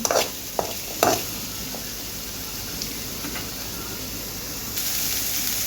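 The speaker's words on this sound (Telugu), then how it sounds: "ఉల్లిపాయలు ఎర్రగా వేగాలి ఇందులో పచ్చిమిర్చి కూడా వేసుకుందాము" Onions and green chilies fry in a pan, giving a steady soft sizzle with a few sharp stirring scrapes near the start, and the hiss swells slightly toward the end.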